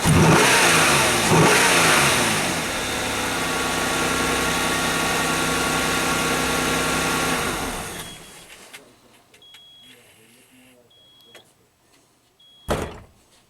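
A Nissan Maxima with overheating and long crank time revs loudly and steadily up close for about eight seconds, then drops to a faint idle with small clicks and a short sharp knock near the end.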